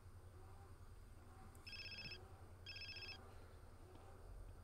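A cell phone ringing in the Grand Theft Auto: San Andreas video game, two electronic ring bursts about a second apart over a low steady hum of game sound, with no talking.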